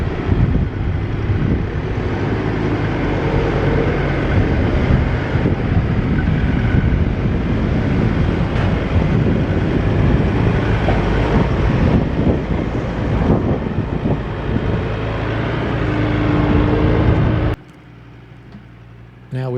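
A Toyota Hiace 4x4 campervan grinds off-road up a steep climb with wheels in the air, a loud, steady engine drone under heavy wind noise that cuts off near the end.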